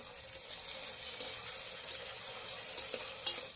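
Tomato stirred into onions and garlic frying with asafoetida for a Gujarati whole-onion curry, giving a steady close sizzle with a few soft spoon scrapes and taps against the pan, no talking.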